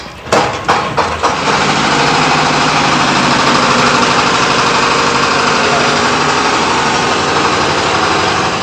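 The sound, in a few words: loud corn grinding machine engine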